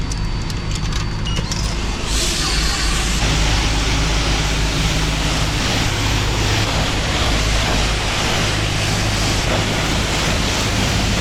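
Water sprays steadily onto a Nissan 350Z HR at a car wash: a loud, continuous rushing hiss that holds unbroken from start to finish.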